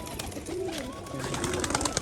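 Pet pigeons coo in low, rolling calls close by, two or three soft phrases over a steady background hum.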